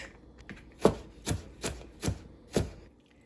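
Knife chopping carrots into small pieces on a cutting board, five crisp evenly spaced chops close by with a quiet pause before the first, no talking.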